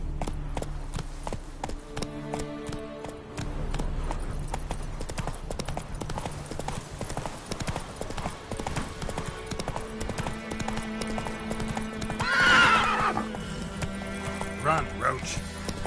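Horse hooves galloping in steady clip-clop rhythm in The Witcher 3, with a loud neigh near the end, mixed with game music and a voice speaking.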